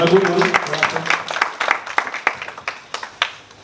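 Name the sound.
applause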